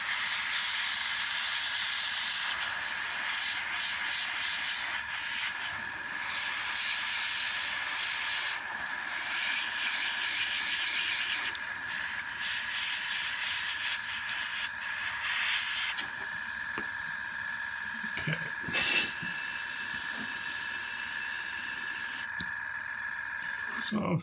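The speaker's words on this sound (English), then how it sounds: "I think it'll be a lot quicker with the airbrush" An airbrush sprays paint onto a model spider of Aragog, giving a steady, close airy hiss that runs almost the whole time, with a few brief pauses and small clicks.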